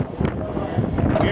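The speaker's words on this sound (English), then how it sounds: "It's a little windy out here." Wind gusting across the open deck of the Carnival Celebration cruise ship, buffeting the microphone with uneven low rumbling bursts over about a second, loud and close.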